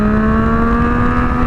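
A Yamaha MT-09, a 900 cc naked motorcycle, holds a loud, steady engine drone, close and continuous throughout with no voices, as the throttle is opened to lift a wheelie.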